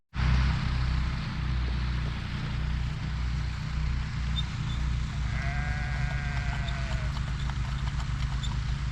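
Sheep bleat on a farm, a couple of clear drawn-out calls rising over a steady background of rumbling machinery or hoof-like clatter, no talking.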